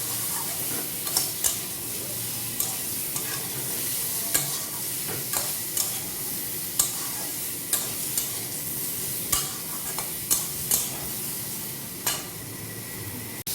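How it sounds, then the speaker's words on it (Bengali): Pointed gourd frying in a wok sizzles steadily at close range, broken by a dozen or so sharp scraping clicks of a spatula stirring at irregular intervals, with no talk. "পটল একটু ভাজা হয়ে গিয়েছে"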